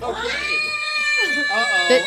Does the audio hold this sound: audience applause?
no